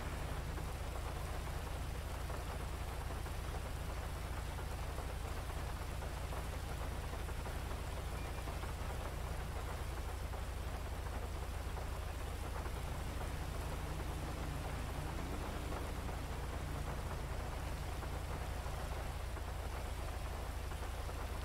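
Steady rain with a low thunderstorm rumble falls in the video game GTA 5, a constant hissing wash of drops throughout, faint and with no talk over it.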